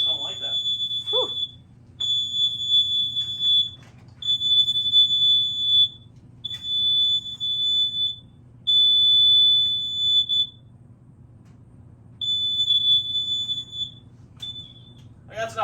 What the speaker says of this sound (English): Smoke detector.